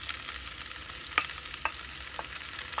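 Gizzard cooks in a pan with onions, spring onions, tomatoes and pepper under a soft, steady sizzle. A few light utensil clicks stand out, and no one speaks.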